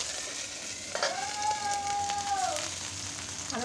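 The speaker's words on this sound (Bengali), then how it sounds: "আদা দিলে প্রচণ্ড ছেড়ে" Ginger paste dropped into hot oil with cumin seeds for a Bengali lau sukto, giving a steady, close, loud frying sizzle with a bright tone running through the middle and no talk.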